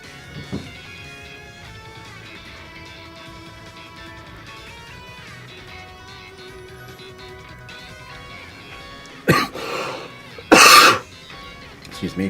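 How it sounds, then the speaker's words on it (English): A person coughs twice in quick succession, loud and close, after a long stretch of quiet room tone with faint background sounds. "Excuse me, pardon the cough."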